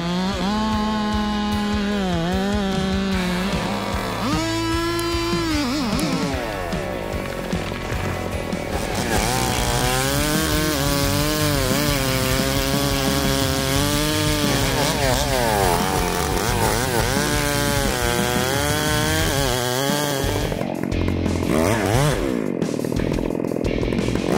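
A chainsaw roars continuously at close range, its engine pitch rising and falling as it bites into a large tree trunk, loud and steady throughout.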